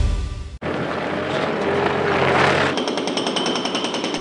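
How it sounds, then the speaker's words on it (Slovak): Demolition work at the construction site of a modern art museum undergoing modernization in Medzilaborce, a loud continuous jackhammer-like pounding and machinery roar close by, briefly cut off, then resuming with a harsher rattling tone. "Aktuálne v ňom finišujú búracie práce."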